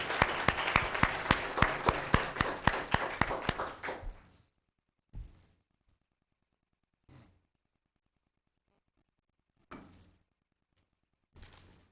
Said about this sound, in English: Let's have another round of applause for our young poets.